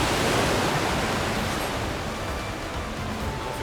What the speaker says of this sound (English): He just went into that waterfall.